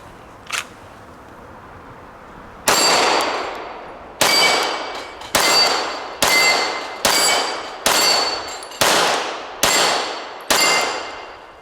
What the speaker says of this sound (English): So we're going to shoot some steel.